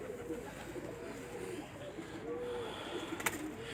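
Pigeons on a rooftop loft coo in soft, low, rolling calls, several overlapping through a steady murmur of background noise, with a brief sharp sound near the end.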